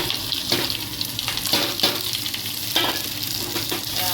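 Dry spices and onion frying in hot oil for a mushroom curry, a continuous close sizzle punctuated by several scraping stirs, with no voices.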